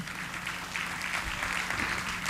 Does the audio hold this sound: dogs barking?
no